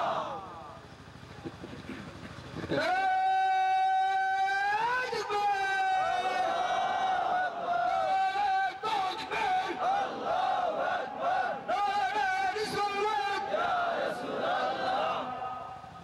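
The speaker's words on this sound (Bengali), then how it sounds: "একবার চিৎকার দিয়া তাকবীর দেন।" A large crowd roars a takbir chant at a religious gathering, long loud sustained chorused shouts rising in waves after a brief lead voice, filling the space continuously.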